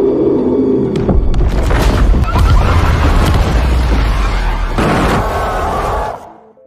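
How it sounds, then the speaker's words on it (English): A mountain blown apart by workers' blasting charges during excavation: a heavy, rumbling boom that roars on for about six seconds with scattered cracks and debris bursts, then cuts off abruptly. "To speed up the excavation process, the workers agreed to blow up the mountain."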